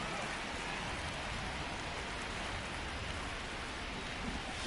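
Steady rain pattering over a baseball field in the video game MLB The Show 23, a dense, uniform wash of falling drops heard at low level without break.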